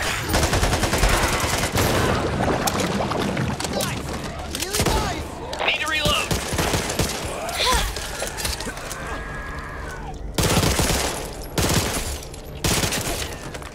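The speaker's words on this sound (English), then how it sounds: "Shotgun." Shotgun blasts and bursts of rapid gunfire from the video game Back 4 Blood, loud and repeated in clusters with crashes and game sounds, while players talk over the action.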